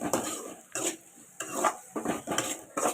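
Green gram dal stirred and sautéed in a pan, with a spoon scraping and knocking against the metal in short bursts about every half second over a soft background sizzle.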